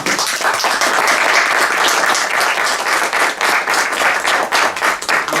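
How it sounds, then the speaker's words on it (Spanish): Sustained crowd applause at the close of an international gathering on oral traditions and storytelling, steady dense clapping filling the room for several seconds with no talk over it. "Así que un aplauso para ustedes."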